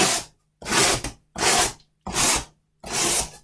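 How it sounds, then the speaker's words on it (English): A blade scores the top layer of cardboard in five loud, evenly spaced rasping strokes, each about half a second long with short silences between. "I'm just going to make little score marks about every inch or two"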